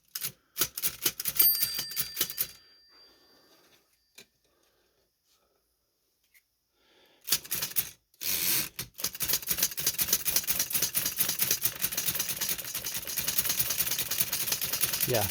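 Antique 110-year-old Chicago typewriter under restoration, its escapement mechanism clicking in sharp bursts, a burst of clicks, a pause of near silence, then a longer busy run of rapid mechanical clatter close by.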